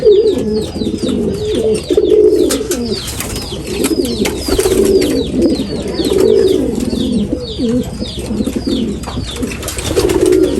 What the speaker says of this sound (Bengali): এই যেখানে আছে দুটো কবুতর